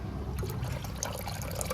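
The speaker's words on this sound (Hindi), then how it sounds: "एक बर्तन में 500 ml पानी ऐड कर देंगे।" Water is poured steadily into a cooking pot while soya chaap is prepared, a soft continuous splashing trickle heard close up without speech.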